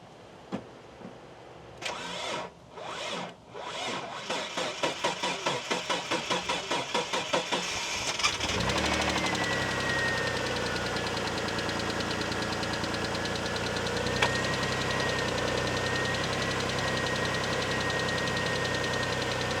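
A Mitsubishi 3000GT engine cranks with a rapid rhythmic churn, catches and fires up, then settles into a steady idle with a faint high whine after the drive belt is re-tensioned.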